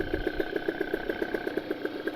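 A Kawasaki Ninja two-stroke motorcycle engine runs close by with a rapid, even pulsing, an idling putter that stays at a steady rhythm with no talk over it.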